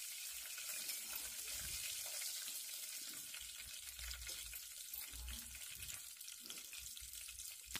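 Curry leaves frying in a pan for upma, a soft steady sizzle with intermittent stirring scrapes and low bumps throughout.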